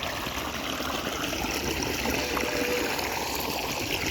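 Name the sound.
flowing water stream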